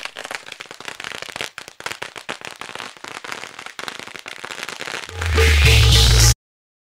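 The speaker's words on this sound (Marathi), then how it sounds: "फटाक्यांच्या आतिषबाजीनं आपल्याला स्वागत पाहायला मिळेल" Strings of firecrackers crackle in rapid dense pops for several seconds, then a louder sustained roaring burst, welcoming a guest at the Adivasi Chashak village cricket tournament in Kaloti.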